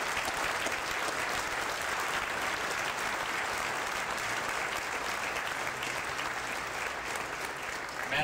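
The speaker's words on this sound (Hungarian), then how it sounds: "Kérek nekik egy tapsot." A large crowd at a political rally applauds steadily and loudly throughout, a dense, sustained wash of clapping with no voice over it.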